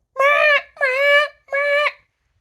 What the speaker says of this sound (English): Does your alarm sound like this every morning?